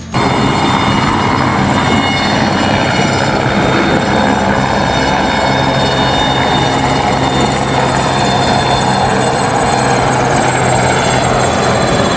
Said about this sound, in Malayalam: ഒരു ചെറിയ പ്ലാറ്റ്ഫോമിൽ നിന്നും തുമ്പിയെപ്പോലെ ഒരു ഹെലികോപ്റ്റർ ഉയരുന്നതും